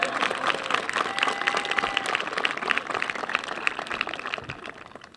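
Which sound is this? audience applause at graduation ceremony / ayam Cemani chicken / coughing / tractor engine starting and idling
audience applause at graduation ceremony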